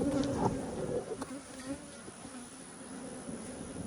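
Honeybees buzz steadily at an open hive during a split, a soft, close, continuous drone with a few louder passes from individual bees and no talking.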